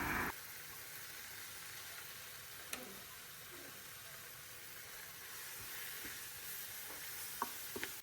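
A soft, steady sizzle of coriander powder, cumin powder and garam masala frying in a pan, with a few faint clinks and stirring scrapes scattered throughout.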